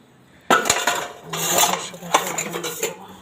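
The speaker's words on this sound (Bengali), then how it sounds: "এবার হচ্ছে যে কাজটা, সেটা হচ্ছে মাজা ধোয়া" Pots and dishes are scrubbed and washed after cooking, with close, sharp clanks and clatters of metal and cutlery in irregular bursts.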